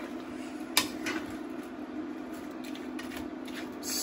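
King prawns being stirred with other ingredients in a cooking pot, giving soft scraping and light clinking of a utensil against the pot, with a couple of sharper knocks early on over a steady background hum.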